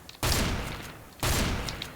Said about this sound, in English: Don't use shotguns out of range, as you see.